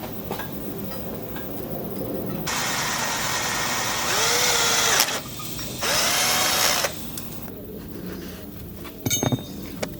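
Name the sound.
drilling a small hole with a drill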